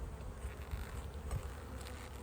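Honey bees buzz steadily at the hive in a dense, continuous drone, a close swarm hum with no voices.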